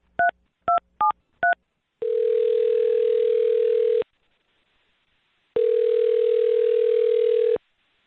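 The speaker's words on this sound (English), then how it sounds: "I'm going to dial her phone number right now." A phone number is keyed in as four quick touch-tone beeps, followed by two long, steady ringback tones separated by a short silence.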